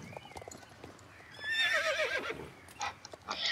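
A horse in the video game Star Stable gives a loud, rising and falling whinny lasting about a second, followed by a few short snorts and hoof sounds, with no talk over it.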